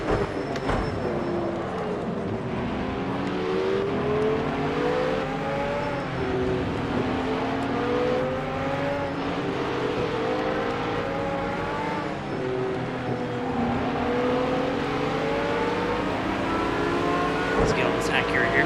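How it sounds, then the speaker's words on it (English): A Mercedes-AMG race car in Project Cars 2 roars steadily at high revs, its pitch climbing and dropping through gear changes as other racing cars run close by, with a few sharp pops near the end. "That AMG in front spitting flames like crazy."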